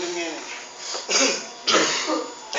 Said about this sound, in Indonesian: Maaf ini sedikit agak batuk.